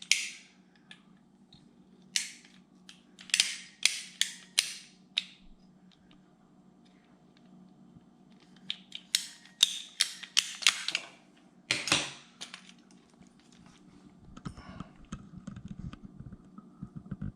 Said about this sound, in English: Now I get my cutters.